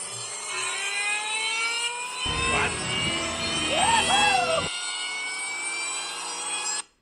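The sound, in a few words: aftermarket blower whine in Ford F-150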